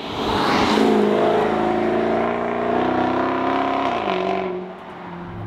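A 2014 Jaguar XKR-S V8 starts and settles into a deep, low burble, loud and close, with a rising rev at startup, a steady rumble, and a drop in pitch near the end.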